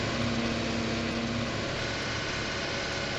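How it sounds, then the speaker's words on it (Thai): Old vehicle engine held at full throttle in Farming Simulator 19, a loud, unbroken droning roar that stays level throughout, with no voices. "ผมเร่งเครื่องสุดเลยนะทุกคน"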